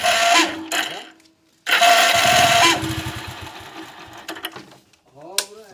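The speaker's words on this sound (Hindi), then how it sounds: "सेल्फ मार रही है इस टाइप का साउंड आ रहा है" The self-starter motor of a Hero HF Deluxe motorcycle, with a fault, whirs and grinds in two loud close bursts, the second longer, followed by scattered mechanical clicks and a brief final whine.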